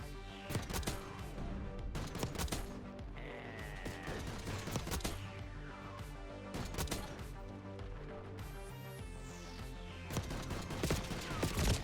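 Full-auto SVD sniper rifle in a video game fires in rapid bursts of sharp, loud cracks, with short pauses between strings of shots and a few clattering impacts mixed in.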